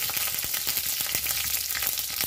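Panch phoron spices frying in a small amount of mustard oil, a steady close sizzle with scattered crackles and pops, no voices.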